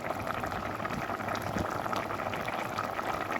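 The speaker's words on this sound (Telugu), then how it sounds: "చామగడ్డ అయితే ఇలా ఉడకనియాలి" Taro root curry simmering in a pot, a steady close bubbling and gurgling boil that continues evenly throughout with no voices.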